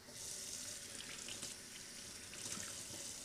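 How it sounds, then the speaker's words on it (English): Cold tap water runs steadily into a sink while bell peppers are rinsed under it, a continuous close splashing hiss with slight shifts as the vegetables move through the stream. "So now we are rinsing off the bell peppers"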